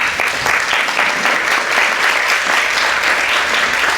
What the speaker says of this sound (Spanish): un aplauso para ellos y para ustedes que estuvieron acá y no se lo perdieron